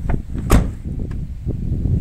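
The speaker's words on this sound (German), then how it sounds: "Also auch hier die Tür schließt ordentlich." A used Opel car's door swings shut with one solid thud, close and fairly loud, followed by a few faint knocks and handling noises.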